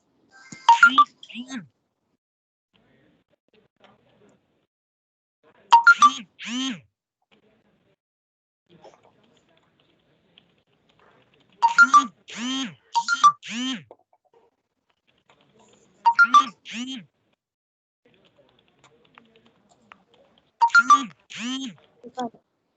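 During a live online class, a mobile phone ringtone repeats in regular bursts of chirpy, bird-like tones. The groups are separated by a few seconds of silence and sound close and clear.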